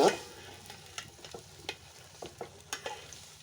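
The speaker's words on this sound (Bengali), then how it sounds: "বন্ধুরা দেখুন এই যে এখন আমি এটাকে এখন নাড়াছাড়া দিচ্ছি" A homemade herbal oil of leaves and vines is stirred in a pan, a light sizzle under a run of quick, gentle scraping strokes, with no talk.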